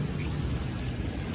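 Steady broadband rain pours during a typhoon amid flooding, a continuous dense hiss with low rumbling underneath, fairly loud and unbroken throughout, no voices.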